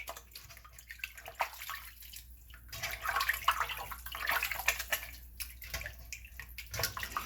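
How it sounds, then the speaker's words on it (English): Meat is scrubbed with lime under a running tap, with splashing water and wet rubbing that come in uneven bursts, close by and with no talking. "So I'm just going to scrub my meat with the lime."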